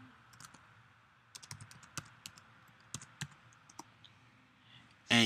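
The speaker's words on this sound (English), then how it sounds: "You will type in your username, which is your full email, and your password." Username and password typed on a computer keyboard: quiet, irregular key clicks in short bursts with small pauses, close by, then a louder knock right at the end.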